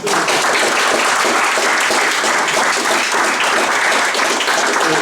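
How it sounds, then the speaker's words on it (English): Loud, dense applause from a large crowd, continuous and even throughout, with many hands clapping at once close by. "Let's give a round of applause for Sin."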